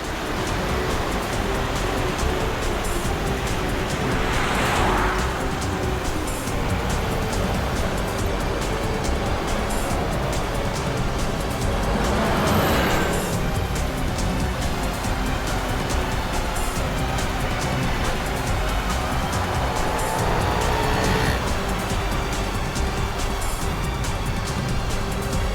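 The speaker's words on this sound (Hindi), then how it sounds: "ये गाड़ी भी शिल्पा का पीछा कर रही है।" Car on the road, followed by another vehicle, gives a loud, continuous rushing drone of engine and tyre noise, with a few swells of passing traffic surging and fading over roughly twenty-five seconds.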